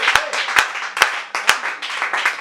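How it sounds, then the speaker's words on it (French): Church congregation clapping in steady rhythm during a worship service, with loud, close, sharp claps spaced about half a second apart over a dense bed of crowd applause and voices. "Acclame très fort le Seigneur."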